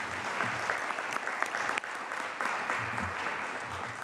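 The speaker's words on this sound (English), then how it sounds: "You can clap, it's okay." An audience claps steadily and fairly close, a dense, continuous burst of hand clapping lasting the full few seconds with no voices over it.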